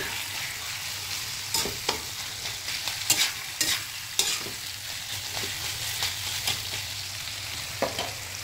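Java rice frying with cumin and turmeric, a soft continuous sizzle broken by repeated sharp scrapes and clacks of a spatula stirring in the pan, irregular and close.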